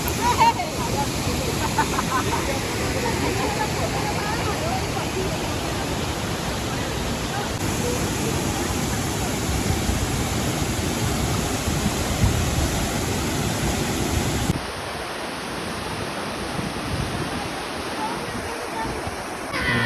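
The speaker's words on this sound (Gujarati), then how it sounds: "નાના નાના ઝરણાઓ વહી રહ્યા છે ખળખળ ખળખળ વહેતો અવાજ આવી રહ્યો છે" Paniyari waterfall on the Danta–Palanpur highway in north Gujarat, with small streams running nearby in light rain: a loud, dense, continuous rush of falling and flowing water.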